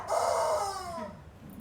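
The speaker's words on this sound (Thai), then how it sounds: "น้องไก่เขาทำเสียงอย่างนี้ได้" A chicken gives a single drawn-out call, close and fairly clear, rising then trailing off over about a second with quiet background.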